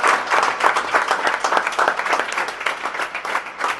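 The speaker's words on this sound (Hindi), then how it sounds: "सभी बच्चे जोरदार तालियां बजाएं" A group of children claps loudly at a birthday celebration for a historical figure, a lively burst of many small hands clapping in an uneven, continuous patter close by.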